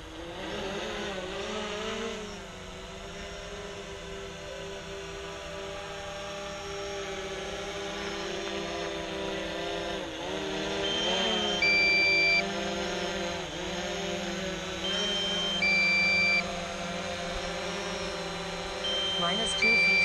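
A drone comes in to land at a build site, its propellers whirring steadily and close throughout, while a synthetic voice repeats low-battery warnings and short beeps sound at intervals.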